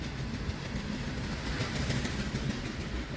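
CSX freight train with hopper cars rolling past on the Grand Rapids subdivision, a steady close rumble with faint wheel clatter and no voices.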